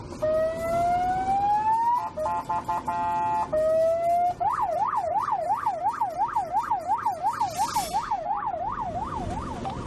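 Loud, close ambulance siren that rises in pitch, shifts to a steady two-tone wail, then settles into a rapid repeating yelp.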